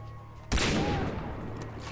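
A single loud sniper rifle shot in the video game Far Cry 3 cracks sharply and then trails into a long, fading rumble.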